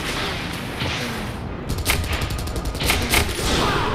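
Enemy gunfire in the Tribes video game: a burst of rapid sharp shots starts partway through, with several spaced reports over a dense, rumbling battle background.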